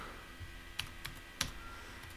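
Keys on a membrane computer keyboard are struck hard, a few sharp clicks spaced irregularly over two seconds, close and fairly quiet against a low steady hum.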